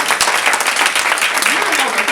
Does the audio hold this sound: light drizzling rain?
no